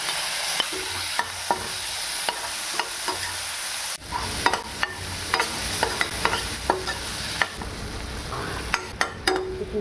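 Spices and tomato for a masala dosa filling fry in a pan with a soft, steady sizzle, while a utensil repeatedly scrapes and taps against the pan as the mixture is stirred close by.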